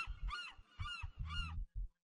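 Seagull calls in a modded Minecraft game: three loud, nasal honking cries in quick succession, each rising and falling, over low rumbling game noise and thuds.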